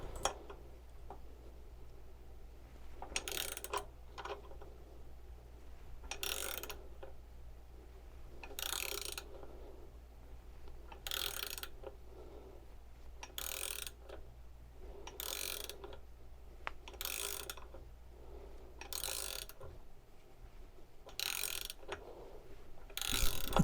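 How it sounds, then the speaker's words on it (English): A pulley installer tool presses the pulley onto the power steering pump shaft of a 1977 C3 Corvette, giving steady ratcheting clicks at regular intervals with faint mechanical noise in between, close and quiet, no talking. "It just gradually pushes that pulley very carefully onto that shaft"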